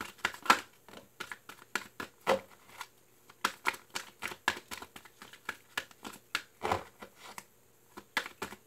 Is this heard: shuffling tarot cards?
yes